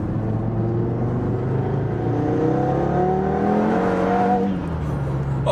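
An Audi TT RS accelerates at half throttle, its engine note climbing steadily in a loud, continuous rising drone with a slight drop at the end, heard from inside the car without talk.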